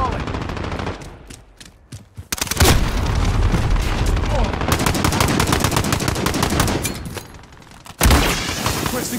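Loud, dense gunfire from Call of Duty: Modern Warfare fills the clip, with sustained automatic bursts and booming shots close by and only a brief lull.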